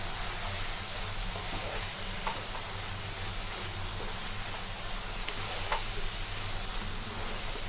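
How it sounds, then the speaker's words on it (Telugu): Fish pieces fry with lemon juice and coriander in a pan, a steady close sizzle and hiss that runs continuously throughout without talk. "నిమ్మరసం, కొత్తిమీర వేసుకొని ఒకసారి ఫ్రై చేసుకోవాలి."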